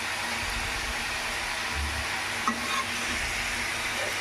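Mysore bondas made with maida bubble and sizzle in hot oil as they are turned, giving a continuous even fry hiss with a soft scrape or two, close and steady.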